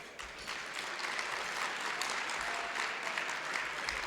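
Steady applause from a large gala audience, a dense crackle of many hands clapping at even loudness for several seconds, with no voices over it.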